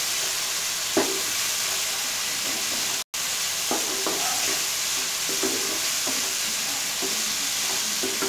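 Spice masala with cumin powder and a little Kashmiri chili powder sizzles steadily in a pan over low heat, a constant hiss broken by occasional soft scraping stirs.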